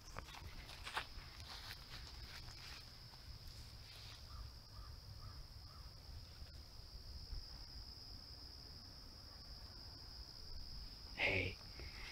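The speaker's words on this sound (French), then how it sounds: "Et on entend les criquets" Crickets and grasshoppers chirp outdoors in a sunny spot among pine trees, a steady high-pitched buzz that carries through the whole stretch, with faint footsteps and a short louder rustle near the end.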